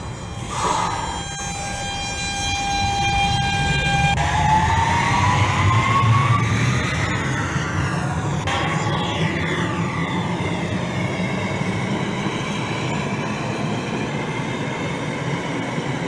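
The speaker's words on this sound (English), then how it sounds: "This is a Manhattan-bound N train." An NYC subway N train pulls away in the OpenBVE train simulator: a few clear chime tones sound, then the traction motors whine steadily upward in pitch under rumbling wheel noise.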